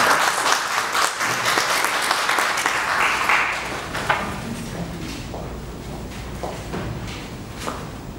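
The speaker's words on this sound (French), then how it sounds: "Madame, messieurs, sous vos applaudissements, Marie-Darlene Dorval." Audience applause greets a speaker introduced at a French-language agricultural research talk, loud at first and gradually thinning into scattered claps and small knocks.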